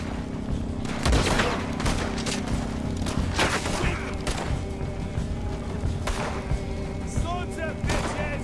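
Gunfire in Red Dead Redemption 2 during a farmhouse shootout, rapid cracking shots and heavy booms in bursts over several seconds, some close and loud, with voices talking in between.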